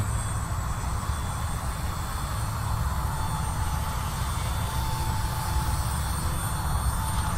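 A Blade 150 S Smart radio-controlled helicopter comes in to land, its rotor and motor giving a steady, fairly loud whirring drone that holds evenly throughout, with no voices over it.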